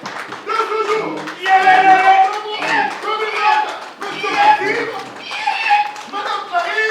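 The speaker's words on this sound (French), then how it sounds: "Et sous vos applaudissements, c'est parti." Guests at a civil wedding clap for the bride and groom, a rhythmic clapping under loud, prominent talk and some chatter close by.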